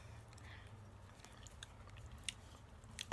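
Boiled eggs topped with homemade shrimp sauce are eaten close up, with soft, quiet chewing and a few small sticky bites over a low background rumble.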